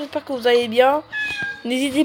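A pet cat meows repeatedly indoors, loud drawn-out cries close by that overlap with someone speaking French.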